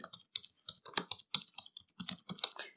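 Someone types on a computer keyboard, entering a search into a web browser, with a quick, uneven run of close, crisp key clicks and no voices.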